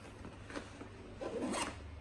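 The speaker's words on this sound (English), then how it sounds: "You just put your finger through them on that finger pull and just reef on them." The zipper pulls on an Eberlestock H1 backpack are yanked open in two quick rasping strokes, close and fairly quiet against a steady background hiss.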